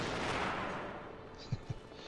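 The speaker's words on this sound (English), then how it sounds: "Now, these guns here, these cannons, they actually work." Cannons fire in the video game Crysis 2 as a loud, broad rumbling blast that fades out, followed by two short, deep thumps near the end.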